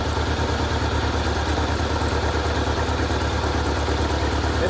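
A 2003 Saab 9-3 2.0t four-cylinder idles steadily after a throttle body repair, its close, even low rumble pulsing evenly with no talk over it.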